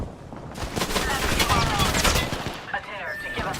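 Bursts of rapid automatic gunfire in Apex Legends, loud and close, continuing throughout with game chatter and voice lines layered over the shots.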